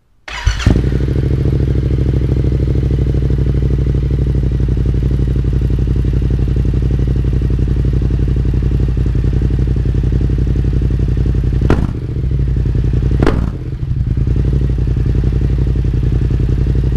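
A 2022 Yamaha MT-07 motorcycle starts up and settles into a steady, loud, close idle, with a couple of brief dips in the engine note near the end.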